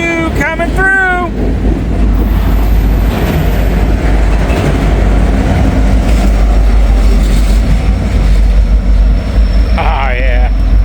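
Freight train with a DPU locomotive rolling past, a steady loud rumble and rail noise filling the whole stretch, with brief horn-like tones at the start and near the end and a voice speaking over it.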